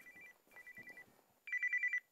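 A telephone rings in repeated electronic bursts, the tone pulsing in two short rings and then a louder third ring, with faint room noise between and no talk.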